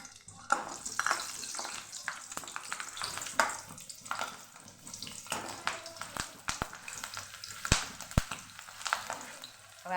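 Green chillies frying in a pan for a chutney, a soft, close sizzle with scattered crackles and stirring clicks and scrapes, fairly quiet and uneven.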